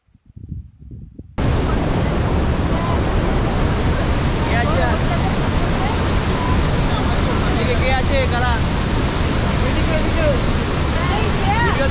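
A waterfall near Pokhara, Nepal, pours with a loud, constant rushing roar after a short quiet start, with faint chirps riding on top.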